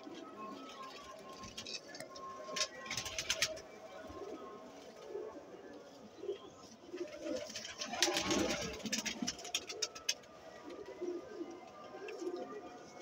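Sialkoti pigeons coo in soft, repeated bursts close by, with wing flutters and scattered ticking noises, while someone talks over them.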